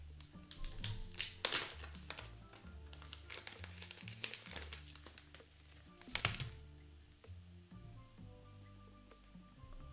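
Unboxing a Xiaomi Black Shark 2 phone, close crinkling of packaging and protective film with scattered taps and rustles as the box is handled, fairly quiet and with no talking.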